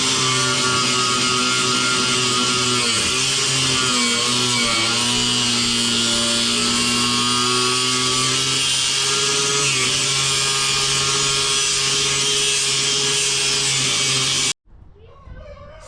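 A power tool cuts through a piece of thick metal plate for a welded differential on a Chrysler 300 drift car, giving a loud, continuous high whine with slight pitch wavers that stops abruptly near the end.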